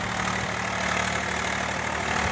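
An Eicher 485 tractor engine idles with a steady, continuous mid-to-low rumble, close and loud, with no voices over it.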